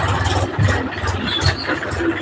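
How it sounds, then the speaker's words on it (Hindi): A tractor passes along a village lane, its engine a continuous rumbling drone that swells slightly and stays fairly loud, with no clear speech. "ये ट्रैक्टर जा रहा है देखो"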